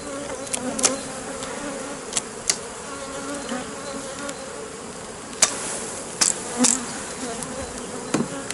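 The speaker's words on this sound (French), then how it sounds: "En principe, elles sont gentilles, ces abeilles. Je ne sais pas ce qu'elles ont ce matin." Honeybees buzz agitatedly around an open hive, a dense steady drone close by, with a few sharp clicks and knocks from handling the hive scattered through it.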